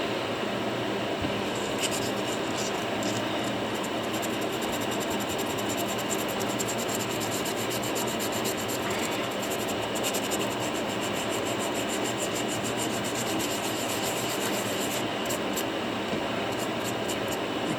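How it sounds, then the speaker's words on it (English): An echinoid fossil sanded by hand with 320 grit sandpaper, a continuous close rasping scrub that stays steady and even the whole time. "sand the finer stuff"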